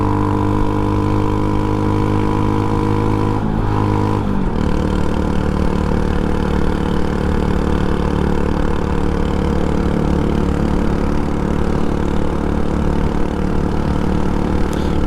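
A heavily loaded scooter's engine runs steadily and loudly as it shifts into second gear after slowing to about 26, with a pitch drop around the shift followed by a continuous lower drone.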